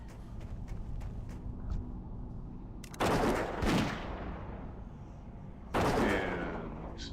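Gunfire from a dwarf hunter in a hardcore self-found fantasy video game: two loud sharp shot bursts, each decaying over a couple of seconds, over a steady low game ambience.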